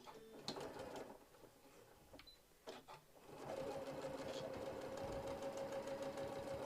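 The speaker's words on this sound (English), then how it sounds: "Okay, so I'm going to sew a 1/4 inch from the edge." A sewing machine stitches a travel tissue holder a quarter inch from the edge, with a few stop-start bursts followed by a steady, continuous mechanical whirr of fast repeated stitching.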